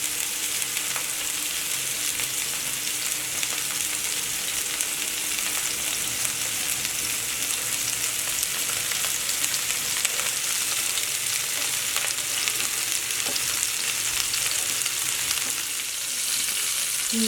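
Chicken shashlik sticks fry in an open pan over a medium flame, giving a steady, dense sizzle with crackling spits that holds at a constant level throughout, close and fairly loud with no voices.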